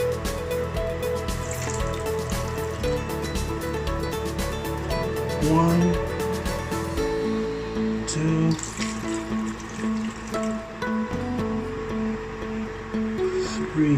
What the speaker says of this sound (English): you need to add the water, 6 to 8 cups or 700 or 800 ml of water